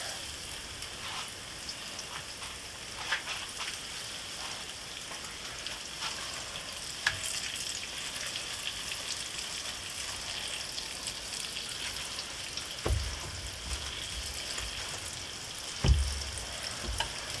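Breaded chicken pieces for chicken parmesan fry in hot oil, a continuous rain-like crackle and sizzle, with a couple of soft bumps as pieces are handled.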